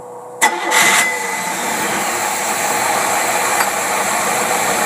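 A car engine fitted with a Rochester Quadrajet carburetor, due for a rebuild, cranks briefly and catches within a second, then settles into a steady, fairly loud idle that runs on alone.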